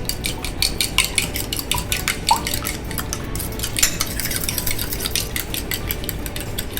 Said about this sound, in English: Whisk those eggs.